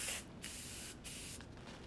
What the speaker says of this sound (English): before I continue to spray, you wanna make sure you spray out the darker color that you used before.